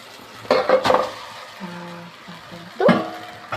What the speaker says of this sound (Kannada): ಇವಾಗ ಇದನ್ನ ಸ್ಟೀರ್ ಮಾಡ್ಕೊಬೇಕು